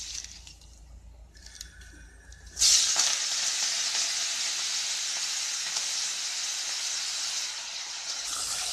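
Curry leaves dropped into hot oil in a pan for a mint, coriander and curry leaf chutney, sending up a sudden loud, steady sizzle and hiss after a quieter start, continuing close and strong throughout.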